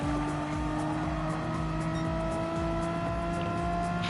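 A Renault Megane Trophy race car braking hard in a sim racing game, with a steady loud engine drone, harmonic whine and a sustained tire-squeal layer running throughout, close and without talk.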